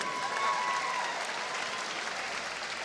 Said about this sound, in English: a round of applause for Mr. Lee Silby